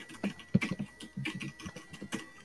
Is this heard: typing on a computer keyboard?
yes